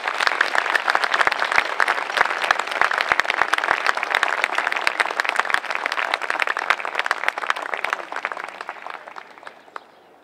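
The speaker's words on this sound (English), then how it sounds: "Can we give them a round of applause," Audience applause at a John Philip Sousa National High School Honor Band concert, a large crowd clapping steadily and loudly for about nine seconds before thinning out at the end.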